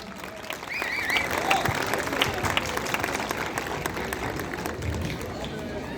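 An audience at a school graduation ceremony breaks into sustained applause, a thick and steady patter of many hands that carries on under a speaking voice.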